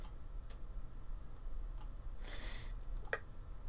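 Computer mouse buttons clicking during a Minesweeper game, sharp isolated clicks spaced irregularly over a quiet low hum, with a brief burst of brighter noise midway.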